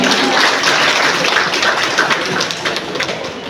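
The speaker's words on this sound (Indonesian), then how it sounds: "Tepuk tangannya dong untuk Ibu Legenda." Loud, dense applause from an audience at an Indonesian religious talk, a steady wash of many clapping hands that tapers slightly toward the end.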